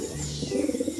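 Soft, close pigeon cooing in a short burst of low, throaty warbling notes, with a faint brief bird chirp before it and no talking.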